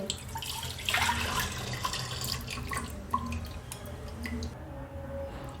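Water poured into a pressure cooker holding washed toor and red masoor lentils, a close splashing, trickling pour that swells near the start and then settles into lighter drips and gurgles, with no talking.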